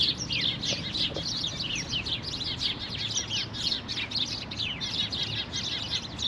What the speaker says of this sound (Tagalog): Ang daming ibon talaga dito sa may puno dito.